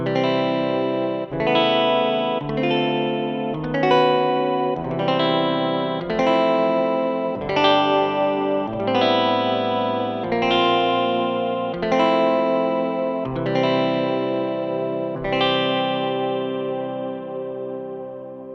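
Piano software instrument plugin played as a sequence of sustained chords, each struck roughly every 1.3 seconds with a clear attack and ringing decay, heavy with effects and reverb, loud and continuous without any talking.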